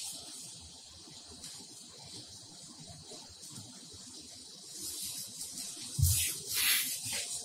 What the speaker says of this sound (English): Sanitizing the hands with sanitizer.